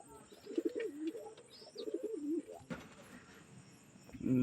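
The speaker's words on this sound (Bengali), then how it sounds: "এরপরে দেখাবো আর এক জোড়া সবজি কবুতর" A pair of Sobji pigeons coo in a loft, soft rolling coos repeating in short phrases nearby, with faint chirps and a few light knocks around them.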